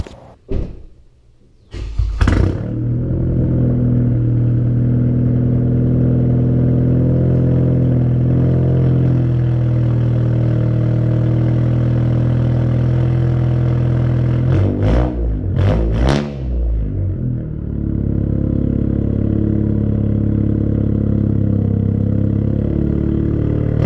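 A loud 10th-generation Honda Civic Si engine idles with a deep steady rumble, broken by a couple of sharp revs near the start and again midway before settling back.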